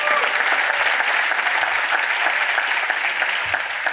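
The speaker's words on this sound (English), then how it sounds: "Give this guy a round of applause." Dense, steady applause from a large seminar audience fills the whole stretch at even loudness, with no talk over it.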